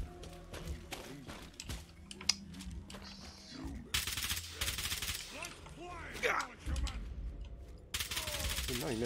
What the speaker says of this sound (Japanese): なんでこいつはこんなグレネード使ってくるの？